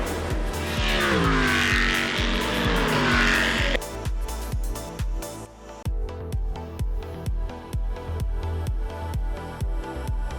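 Race cars accelerate on track at a restart under green, first one engine climbing in pitch, then a rapid pulsing of revs and gear changes, loud and close, with no talk.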